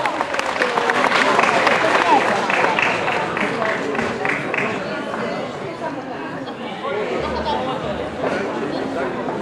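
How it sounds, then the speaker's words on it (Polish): A crowd applauds the village housewives' club at the results of a cooking contest, with warm clapping spread across the room under chatter and talk, fading slightly toward the end. "Brawa, brawa, brawa, brawa! Gorące brawa!"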